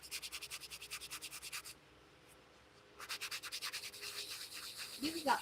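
Very fine 10,000 grit sandpaper rubs a hand-spun ring in quick, even back-and-forth strokes, a soft close scratchy rhythm that pauses briefly and then resumes with no talk.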